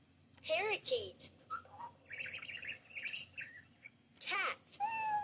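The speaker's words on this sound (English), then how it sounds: "Parakeet." Parakeet squawks and chirps in rapid bursts, harsh rising-and-falling calls clustered near the start and again near the end, with quieter chattering between, close and fairly loud.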